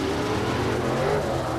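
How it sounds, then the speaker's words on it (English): A 1977 International Scout, bright red, launching down a drag strip in a 1990 racing event, its engine roaring loud and steady with a low rumbling drone and broad noisy wash for the full stretch. "This is a 1977 International Scout."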